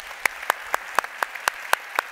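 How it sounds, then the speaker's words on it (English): Audience applause in a conference room, sharp regular claps in a steady rhythm, fairly close and loud, with no talk over them. "I also want the room to give a round of applause to your wife."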